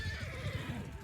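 A horse whinnies in the video game Bannerlord, a short loud neigh over busy battle noise and low rumble, with hooves faintly clopping beneath.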